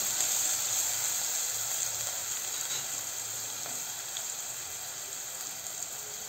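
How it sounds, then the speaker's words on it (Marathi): Chopped onion sautéing in garam masala for Kashmiri pulao, a soft even sizzle and hiss that holds steady and fades slightly, with a few faint utensil taps and no talking. "आता आपण कांदा छान या गरम मसाल्यामध्ये परतून घेऊया"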